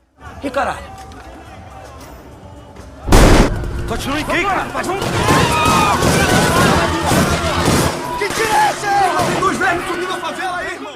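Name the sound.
gunfire in film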